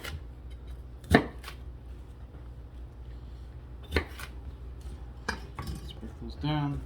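A kitchen knife cuts ingredients into half-inch pieces on a board, giving a few spaced, sharp chops among soft scraping and faint clinks, with a brief voice near the end.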